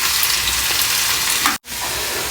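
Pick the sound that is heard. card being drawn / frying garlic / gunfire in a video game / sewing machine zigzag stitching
frying garlic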